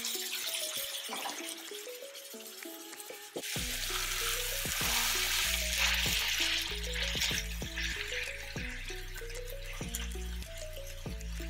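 Lean ground beef hits a hot frying pan and sizzles steadily, close and loud, with a hissing crackle that fills the scene after a brief quieter start.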